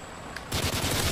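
Automatic gunfire in Call of Duty Modern Warfare 3 erupts midway as a loud, rapid burst of shots, following a quieter stretch with a faint tone.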